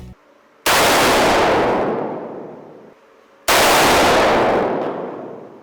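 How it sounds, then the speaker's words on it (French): Two loud Kalashnikov rifle shots at an outdoor shooting range, about three seconds apart, each a sharp crack followed by a long fading echo. "J'ai moi-même sursauté quand j'ai entendu le premier coup de tir"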